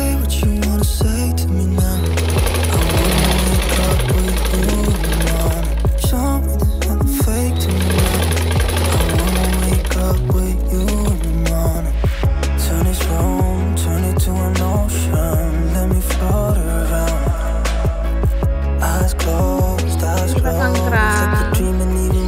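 Sewing machine stitching the lower sleeve of a batik dress, loud rapid mechanical chattering in repeated bursts with brief pauses between runs, close and dominant with no talking.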